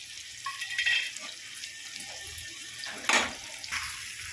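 Tap water runs steadily into a sink as garlic cloves are rinsed by hand, with brief splashes and surges of flow, close and moderately loud, with no talking.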